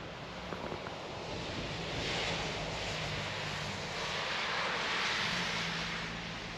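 Water running down a winter slope beside a retaining wall of Haus blocks, heard as a steady broadband rush with gentle swells and a faint low hum beneath, no voices.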